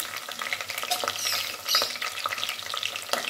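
Cut green chillies sizzling and being stirred in a pan of browned ingredients for chicken gongura biryani, a steady close hiss with scraping stirs throughout and no talk.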